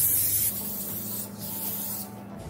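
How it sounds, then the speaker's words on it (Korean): Cooking spray hisses onto a bread pan while a coffee mocha loaf is prepared, a loud close burst at first that eases into a steadier spray over a low hum. "빵틀에 스프레이를 뿌려주겠습니다."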